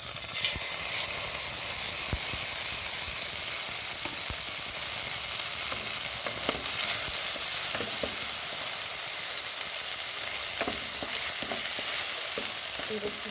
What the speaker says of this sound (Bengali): সাদা তেলটা গরম হয়ে গেলে আর জিরে মরিচ বাটা ছিল সেটা আমি দিয়ে দেবো।